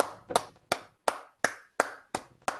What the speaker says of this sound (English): Let's give a round of applause for both the speaker and the evaluator.